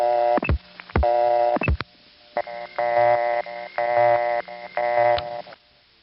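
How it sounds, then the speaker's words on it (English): A flashing busy signal on a 1970s North American telephone line gives a loud, close, buzzy two-tone sound in short bursts. It repeats in a steady on-off rhythm with no talk over it. "By the time the 70s arrived, most busy signals no longer flashed, but occasionally you would find one that did,"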